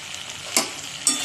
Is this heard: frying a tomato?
yes